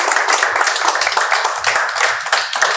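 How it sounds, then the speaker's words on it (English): A round of applause from an audience at a talk: brisk, crisp clapping from a modest crowd, close and lively, fairly loud and steady for the whole stretch without speech over it. "So another round of applause for this friend."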